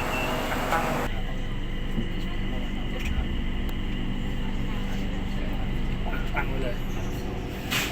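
Riding aboard a Bangkok MRT Blue Line metro train: a steady low rumble and rolling hum run through the whole ride, with a voice speaking over the train noise.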